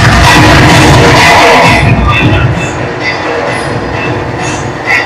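A crowd at a bhajan gathering in Ratnagiri claps loudly in a dense burst of applause that fades after a couple of seconds into softer scattered clapping.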